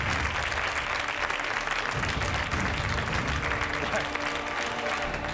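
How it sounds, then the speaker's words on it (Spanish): A studio audience on a Spanish television set claps steadily for a guest in a continuous, dense round of applause that holds at an even, fairly loud level throughout. "ahí tenemos a León, un aplauso para él."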